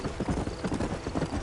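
Horse hooves clip-clop in Red Dead Redemption: a brisk, steady rhythm of close hoofbeats on hard ground, loud and continuous through a short stretch.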